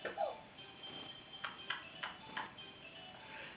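A phone rings with an incoming call, a series of soft pinging tones repeating about every third of a second against a quiet room, with faint talk at the start.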